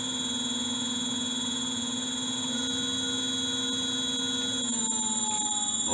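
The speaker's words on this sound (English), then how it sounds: "now it's running very nicely as a motor" Motor running on a Danfoss drive, a steady electrical hum with several sustained whining tones, close and constant, rising slightly near the end.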